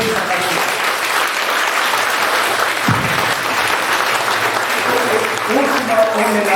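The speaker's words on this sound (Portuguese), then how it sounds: "Portanto, nossas palmas para o senhor embaixador, o senhor Nicolau, da República Brasileira." Sustained applause from an audience at a ceremony marking 80 years of Bulgarian immigration in Brazil fills the space, a steady wash of many hands clapping with a murmur of voices beneath.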